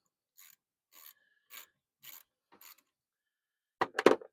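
Ratchet wrench loosening a car battery terminal: five short, evenly spaced bursts of clicking ratchet strokes, close and fairly quiet, followed by a louder, harsher clatter of metal at the end, no talk.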